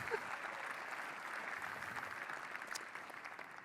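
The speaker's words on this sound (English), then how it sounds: "you should probably give him applause" Quiet, steady applause from a conference audience at a Vue.js developer event in Amsterdam, a soft even patter of many hands lasting a few seconds with no talk over it.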